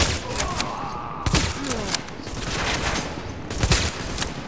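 Gunfire from the shooter game The Division crackles in several bursts amid steady combat noise, loud and close, with a speaker talking over it.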